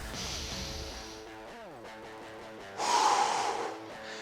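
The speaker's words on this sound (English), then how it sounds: "Hear that breathing? Control it." Heavy, forceful breathing during a bench press and burpee workout, sharp huffs and gasping exhales up close, with a louder rushing breath near the end over background music.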